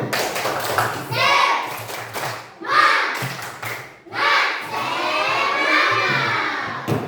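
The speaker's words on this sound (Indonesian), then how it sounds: "Coba tepuk semangat" Students in a classroom doing a rhythmic spirit clap chant, bursts of hand clapping alternating with children's chanting voices, loud and close, with a teacher's voice between rounds.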